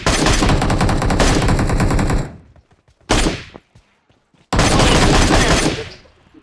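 Rapid automatic gunfire rattles loudly in a video game shooter, with a long sustained burst followed by a short volley and then another extended burst, separated by brief near-silent gaps with faint echoing tails.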